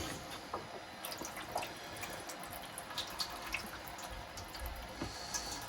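Water runs from a tap in a photographic darkroom in a steady, soft hiss with occasional small splashes and drips, fairly quiet and continuous.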